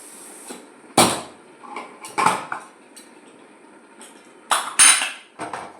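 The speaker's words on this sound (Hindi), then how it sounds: "अब मैं इनमें से निकाल कर ये देखिए इसको इसमें डालती जाऊँगी भगोने में" Several scattered clinks and thuds of boiled carrots being dropped into a metal pot of milk for carrot halwa, with utensil scrapes between them, close by and without talk.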